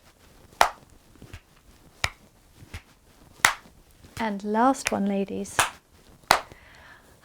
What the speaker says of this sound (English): Let's do the clapping once more. Clapping back, clapping forwards.